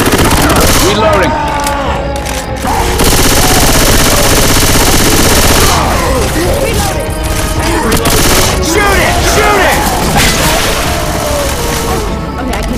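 Heavy gunfire in Left 4 Dead 2 in a swamp setting, loud and nearly nonstop, with rapid automatic bursts, booming shots and crashes piling up amid game music and chaotic noise, while voices talk and shout over it.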